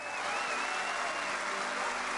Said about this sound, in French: Ils sont là, les applaudissements.